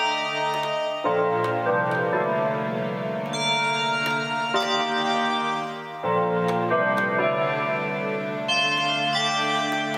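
Electric guitar plays the fifth section of a piece, sustained layered chords shifting every second or two with no talking.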